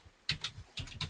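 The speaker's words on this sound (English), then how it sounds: "Somebody's typing." Someone typing on a computer keyboard nearby, two short bursts of quick clicky keystrokes separated by a brief pause, with no voices.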